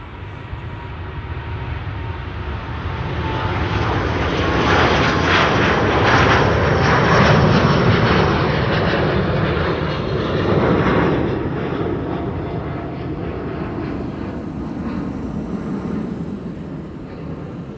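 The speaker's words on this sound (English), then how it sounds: "This is Delta Airlines Flight 49 to New York, JFK." A Delta Airlines jet airliner bound for New York JFK passes at Amsterdam Schiphol Airport, a loud, continuous engine roar that builds, holds at its strongest for several seconds, then gradually recedes.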